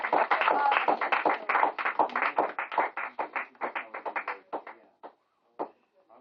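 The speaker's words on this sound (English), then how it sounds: "Can we get a round of applause for our audience?" An audience claps in a round of applause, dense at first and then thinning into a few scattered claps before stopping, moderately loud.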